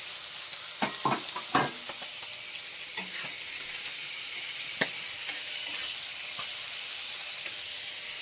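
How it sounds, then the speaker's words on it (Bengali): Prawns fry in a hot pan with a continuous close sizzle and hiss, broken by a few sharper spits and stirring knocks near the start, alone without speech. "এই দেখুন চিংড়ি মাছ ভেজে নিচ্ছি।"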